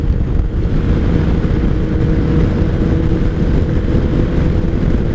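A 2003 Kawasaki ZR7S motorcycle is ridden hard at night, its engine a loud, continuous low rumble under heavy wind buffeting, with no clear gear changes.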